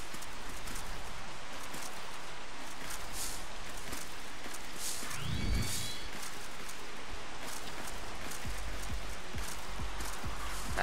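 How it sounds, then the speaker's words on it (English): Rain falls in the video game Tokyo Jungle, a faint, even hiss of patter across the whole stretch, with a brief low thud and rising tone near the middle. "I like the rain effect."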